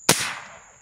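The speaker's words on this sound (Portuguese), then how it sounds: "O Carrascão vai dar um tiro aí, galera, de porra aí, ó." A single sharp gunshot outdoors at night during a hunt at a bait site, loud and close, with a short echoing decay into quiet.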